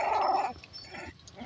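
Beagle and pug puppies make a short, growly yelp at the start, then faint snuffling and shuffling noises follow.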